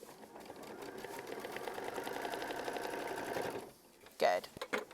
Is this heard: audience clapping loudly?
no